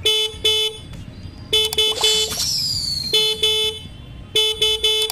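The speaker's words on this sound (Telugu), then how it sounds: "హార్న్ అయితే ఒకసారి విందని చూడండి ఈ బైక్ యొక్క హార్న్ అనేది ఏ విధంగా ఉందో" A 2023 Hero Splendor+ X-tech motorcycle horn honks in repeated short bursts, loud and close, with a brief high whine in the middle.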